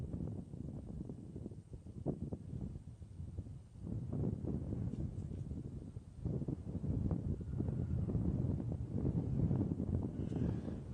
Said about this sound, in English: There's gusting wind.